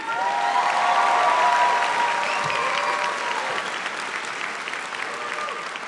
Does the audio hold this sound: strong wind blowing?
no